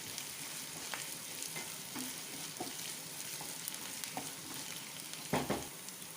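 Chopped carrot and onion sauté for corn fried rice, a steady low sizzle broken by scattered light spatula taps and one louder scrape near the end, heard alone.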